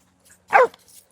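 A single short, sharp dog bark rings out in an otherwise quiet setting, followed by faint small noises.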